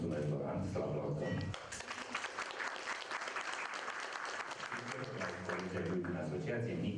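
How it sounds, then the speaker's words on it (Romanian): An audience at a Romanian business gathering breaks into a burst of clapping that follows a brief stretch of talk and fills the rest of the moment. "Mulțumesc, Loran, să-l aplaudăm"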